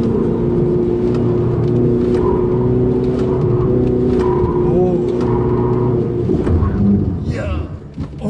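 A Ferrari 488 GTB on the slalom at Inje circuit: a steady engine drone with a held high note runs close and loud under talk from people in the car, then eases and dips near the end.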